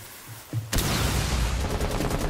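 Sustained burst of gunfire in Rainbow Six Siege, loud and close, starting abruptly after a brief quiet lead-in with a small thud and continuing as dense rapid shots to the end.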